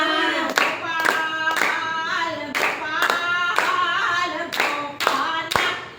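Steady rhythmic group hand clapping keeping time with a devotional Hanuman bhajan sung on Hanuman Jayanti, claps falling on a regular beat over a sustained singing voice and harmonium-like tones.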